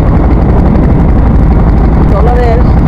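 A trawler under way on water, heard from its roof: loud, constant engine and wind rumble throughout, close and unbroken, with faint voices mixed in.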